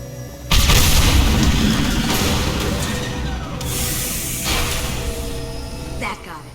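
Tanks are blown up in Mass Effect 2, a loud booming blast that breaks in abruptly and rolls on as a heavy roar, fading over several seconds with a smaller burst near the end, while a voice talks over it.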